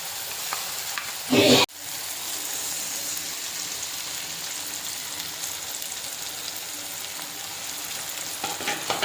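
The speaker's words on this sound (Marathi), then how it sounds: "आता आपण त्यामध्ये आपले अंडे छान फेटून असे घालायचे." Beaten eggs for anda bhurji sizzling and frying in a cooked spice masala, a steady close crackle with a brief louder burst as the eggs hit the pan, continuing evenly.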